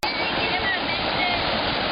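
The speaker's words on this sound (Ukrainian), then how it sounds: "Ми прибули до водоспаду Дюрен. У одної з природних чудес Анталії." The Düden waterfall near Antalya, Turkey, roars as a steady, dense rush of falling water, loud and close throughout with no break.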